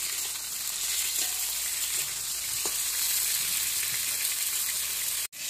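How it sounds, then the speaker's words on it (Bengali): Eggplant is lightly frying in a pan, giving a steady, fairly loud hiss and crackle of oil that runs throughout, with a few faint knocks and a brief cut near the end, and no voices. "এই জন্য একটু হালকা ভাজা করে দেবো।"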